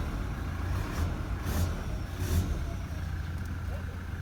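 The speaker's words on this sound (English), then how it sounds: "So I believe you can hear the engine sound right now" Low steady rumble of a Toyota Hilux or Ford Ranger pickup engine and exhaust idling nearby, with a few brief louder swells, a voice talking faintly over it.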